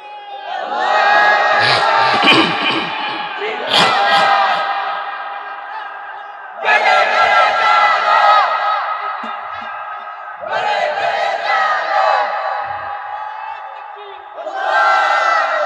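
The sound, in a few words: crowd chanting the slogan Allahu Akbar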